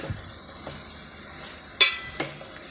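Beef frying in a pan in a village home kitchen, a steady, close sizzle with a couple of sharp clinks from stirring and no voices over it.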